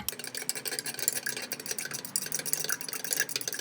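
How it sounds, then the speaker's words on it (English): A spoon stirs a borax and hot water solution in a beaker, giving a rapid, continuous scraping and clinking close up, steady throughout with no voices. "now we're going to mix it together."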